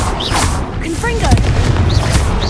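A Confringo fire spell in Hogwarts Legacy bursts with a loud booming blast, layered with sweeping magical whooshes and crackles in a dense, continuous battle mix.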